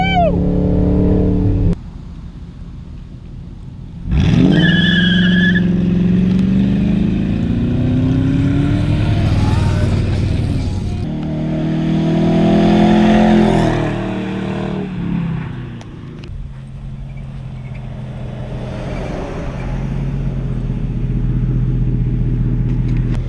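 A Ford Crown Victoria, a heavy sedan, accelerates hard with a loud, rising engine roar and tires screeching, the revving surging and falling over several long pulls close by.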